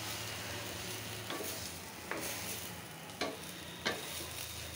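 Eggplant curry sizzling steadily in a pan, with a few sharp stirring scrapes and knocks of a utensil spaced a second or so apart, no talk.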